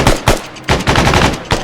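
Machine gun fire in the military game Arma 3, loud close bursts of rapid automatic shots in several quick volleys.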